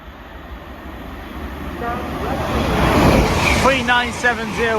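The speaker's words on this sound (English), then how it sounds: "The train's actually passing just as you're saying the announcement." An Avanti West Coast train passes through a station, a rumble swelling to a loud rushing roar with rattling wheels and a rising tonal whine, while a station announcement voice plays over it.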